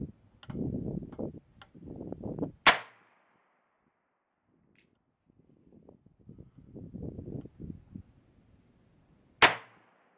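Two sharp, loud shots from a brand-new cap and ball revolver firing thin skin cartridges outdoors, several seconds apart, each a crisp crack with a brief ringing tail, separated by quieter shuffling and handling noises.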